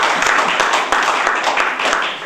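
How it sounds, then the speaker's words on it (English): Audience applause breaks out during a lecture-style talk, a dense, steady patter of many hands clapping at moderate loudness for about two seconds, with no speech over it. "Thanks for the applause."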